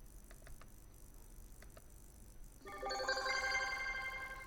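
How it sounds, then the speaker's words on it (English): Telephone on a trixbox PBX extension ringing with an incoming call: quiet clicks, then a loud electronic ring tone begins partway through and continues steadily to the end, nearby in a quiet room. "Alright, I got a call."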